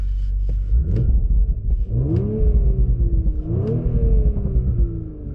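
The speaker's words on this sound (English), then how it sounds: "You can hear the crackles and pops back there with the exhaust." A 2019 Audi RS5 exhaust revs up and falls back in rising and falling sweeps, loud and close, with scattered sharp crackles and pops over a steady rumble.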